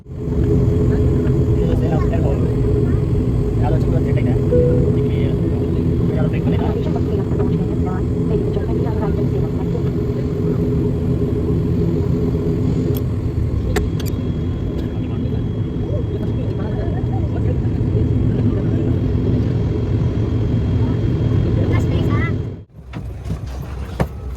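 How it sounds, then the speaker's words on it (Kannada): Steady loud roar of a passenger flight landing at Salem, a continuous engine drone that suddenly drops away near the end. "ಸೇಲಂ ಸೇಮ್ ಫ್ಲೈಟ್ ಲ್ಯಾಂಡಿಂಗ್ ಇಳಿತಾ ಇದ್ದೀವಿ"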